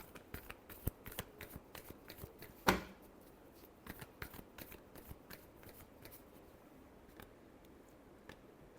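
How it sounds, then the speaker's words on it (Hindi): Tarot cards being shuffled in a rapid run of dense riffling clicks, close and fairly quiet, with one sharper snap near the start and no talking. "last shuffle"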